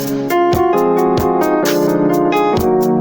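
A piano passing note leading into the sixth, played within a chord progression as several struck chords and notes with sustained ringing harmonics; close, clear and solo.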